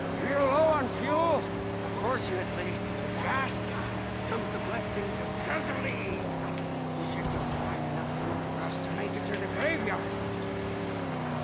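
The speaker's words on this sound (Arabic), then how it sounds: "السيارة العربية دي ماشية ازاي انا مش عارف" Game car engine from Mad Max on PS4, a steady droning hum with shifting pitch through the whole stretch, with talk heard over it.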